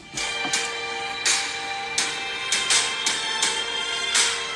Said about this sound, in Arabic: هاي صوت موسيقى الفوز